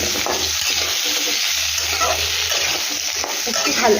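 Ginger and spices fry loudly in a pan for fish curry while being stirred, a steady dense sizzle with scraping movements running throughout.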